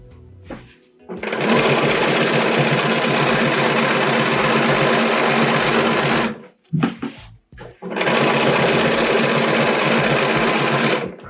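A sewing machine stitching in the ditch along a quilt runs fast and steady for about five seconds, pauses briefly, then resumes at the same loud, close, continuous whir.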